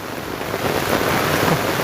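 Dark, dirty floodwater gushing forcefully out after heavy rain, a steady close rushing roar with broadband splashing that grows slightly louder midway, no talking.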